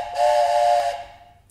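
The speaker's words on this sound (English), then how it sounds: "and maybe you've got a whistle." A short, bright steam-style whistle sounds once, held loud and steady for under a second before tailing off quickly into quiet, as in a playful train-station scene.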